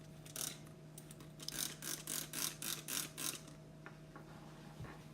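A spray bottle spritzes water in a quick run of about eight short, hissing bursts, then falls quiet with a faint steady hum behind.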